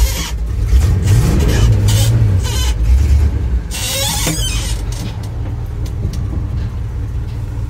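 Chevy C20 truck crawling in granny low gear off road near trees, engine idling with no throttle: a steady low rumble with brief squeals and rubbing, continuous and close throughout.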